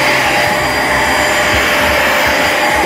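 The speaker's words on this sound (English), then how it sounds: "we had to vacuum and steam clean it" A vacuum cleaner runs steadily while cleaning a car's interior, a loud continuous whine and roar held close to the microphone with no break.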